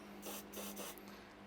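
A short hissing spray of cleaner into a carburetor hole on a surging Mountfield 414 lawnmower, in a few quick bursts, close up, over a steady low hum.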